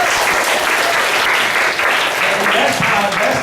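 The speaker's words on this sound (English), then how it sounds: "So again, please give Selena and Louis a big applause" Members at a club evening applaud Selena and Louis with continuous, close, loud clapping for a few seconds, a faint voice or two underneath.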